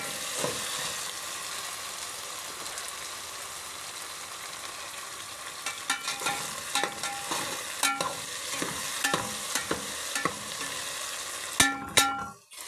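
Potatoes fry with a steady sizzle in a degchi over a village cooking fire, while a spoon scrapes and knocks against the pot in irregular clusters that grow busier toward the end.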